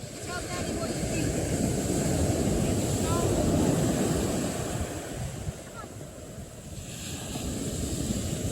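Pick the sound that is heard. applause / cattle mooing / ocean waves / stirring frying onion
ocean waves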